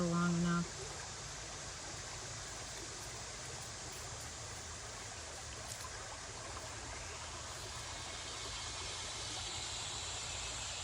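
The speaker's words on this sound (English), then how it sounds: "Creek is running high right now," A high-running creek with murky water rushes in a steady broadband wash throughout, close and continuous, with a brief tonal voice-like sound at the very start.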